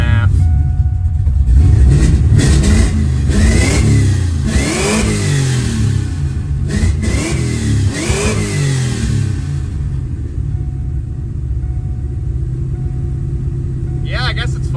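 Engine of a 1998 Ford Mustang Cobra with an idle problem, revving repeatedly in rising and falling sweeps up close, then settling back toward a steady idle; people talk over it.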